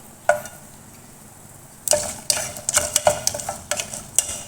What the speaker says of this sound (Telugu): ఆయిల్ వేసుకున్న తర్వాత పచ్చనిపప్పు మినపప్పు ఆవాలు ముందుగా వేసుకుందాం